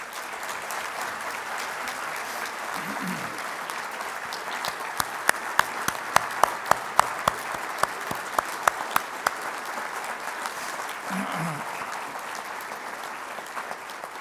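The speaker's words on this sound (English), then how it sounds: "I would like a big round of applause for the video." Sustained applause from the audience at the Tennessee Aviation Hall of Fame induction ceremony, a broad continuous patter of many hands. A few sharper, louder claps stand out near the middle before the clapping settles back to an even level.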